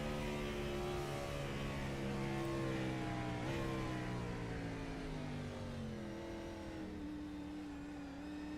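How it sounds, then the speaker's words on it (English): A simulated race car engine at Sonoma Raceway in iRacing hums with a clear, layered engine tone that rises and falls as the throttle is modulated, steady and close with no full-throttle bursts. "Just listen to all that throttle modulation there, Tyler."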